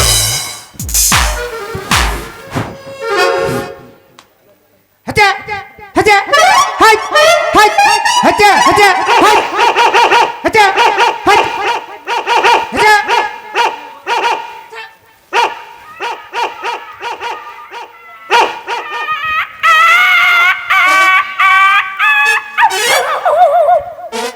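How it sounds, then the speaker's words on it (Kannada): Dogs barking and yipping close by in bursts of rapid, sharp barks with whimpers and brief pauses, loud throughout against a quiet village stage setting. "ಕಾಯಿ ಕಾಯಿ ಅಂತ ಬೊಗಳ್ತಾವಲೆ ಈ ಬಳ್ಳೊಳ್ಳಿ ಬಾಯವ ನಾಯಿ"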